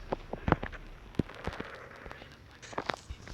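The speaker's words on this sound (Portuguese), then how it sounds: "o menino tá atirando em mim" Gunfire in a video game: scattered sharp, crackling shots ring out in uneven bursts, some clustered together and others isolated, fairly faint overall.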